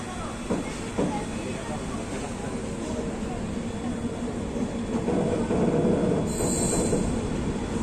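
The Janshatabdi Express departs Delhi Cantt station with a steady, close rumble of wagons and wheels, squealing and hissing, the roar swelling toward the end, with faint talk in the background.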